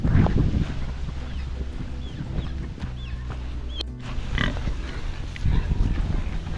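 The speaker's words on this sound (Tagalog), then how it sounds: "Baboy yan nila Via" Pig grunting and snorting at a village home, fairly close, with a steady outdoor rumble underneath and faint background sounds.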